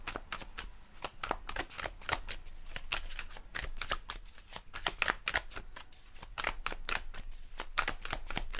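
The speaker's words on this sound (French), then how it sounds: "Virginie, arrête de t'obstiner avec les cartes" Tarot cards being shuffled continuously, a close, steady run of quick papery riffles and flutters with no voices.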